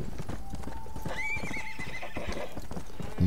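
Hooves clip-clop steadily beneath a horse's whinny in the Western video game Red Dead Redemption, the galloping mount heard close and continuous throughout.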